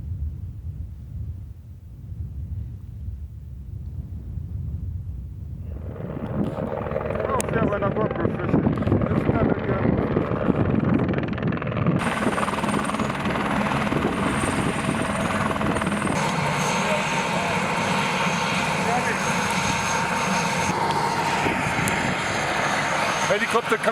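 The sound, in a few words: rescue helicopter flying in from Arusha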